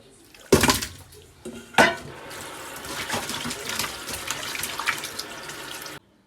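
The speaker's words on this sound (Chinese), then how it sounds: "下面都开始清洗一下，然后开始串串。" Raw chicken tails washed under running water, starting with a couple of loud splashes before a steady close-up tap stream fills a sink, with no speech.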